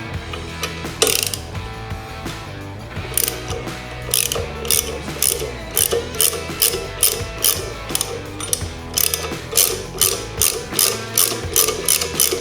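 A ratchet with a 1/4 hex bit loosens the top clamp bolts holding the handlebars on a 2023.5-or-later Road Glide motorcycle, giving repeated bursts of close, crisp clicking strokes with no talk.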